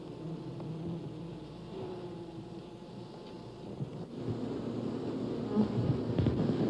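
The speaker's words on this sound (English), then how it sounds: "The bees also provide pollination for the outdoor gardens." Honeybees at a greenhouse beekeeping and honey-production site hum in a dense, continuous swarm buzz, fairly close, swelling louder toward the end with a faint low rumble beneath.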